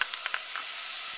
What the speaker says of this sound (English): Get that searing up a little bit.